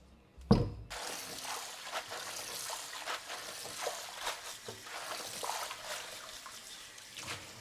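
Tap water trickles and splashes steadily into a bowl of collard greens being rinsed for sand, with small clinks and sloshes throughout, no talking.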